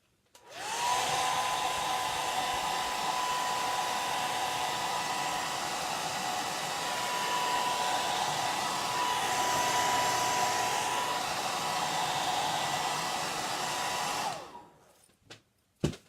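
A heat dryer runs steadily for about fourteen seconds, drying a chalk craft piece, with a high whine holding through a broad hiss before it switches off and a few faint clicks follow.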